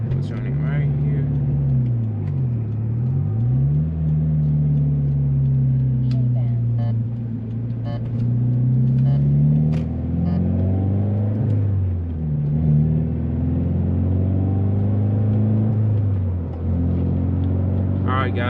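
Subaru BRZ/GT86-type sports car with a custom exhaust drones steadily while driving, a loud, continuous low engine tone that rises and falls with throttle, heard close from inside the cabin.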